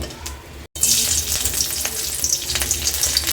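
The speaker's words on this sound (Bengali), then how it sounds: "কড়াইতে পরিমাণ মতো সরষের তেল দিয়ে দেব। এক করে সব উপকরণগুলো ভেজে নেব।" Ingredients fry in mustard oil in a wok, a loud continuous sizzle that starts abruptly after a brief quiet pause and carries on steadily, close by with light stirring.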